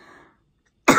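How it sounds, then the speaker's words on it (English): One short, dry cough bursts out close and fairly loud at the end, after faint background sound and a moment of near silence. "I cannot stop doing that like dry cough thing"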